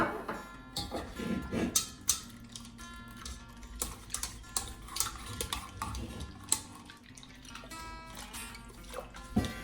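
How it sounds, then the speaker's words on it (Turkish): A spoon stirs warm milk to dissolve fresh yeast for chocolate donuts, giving irregular light clinks and scrapes against a bowl, close and fairly soft over a low background hum. "ilk önce ılık sütümüzü ve yarım yaş mayamızı eritiyoruz"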